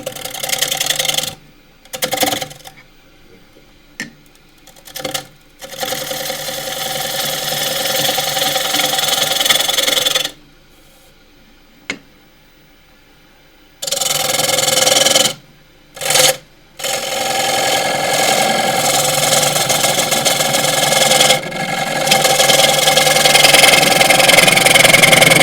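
Elm bowl spinning on a wood lathe at about 800 RPM, cut with a 3/8-inch deep-flute bowl gouge; a steady whirring hiss rises and drops out in bursts as the gouge engages, with several pauses of near silence.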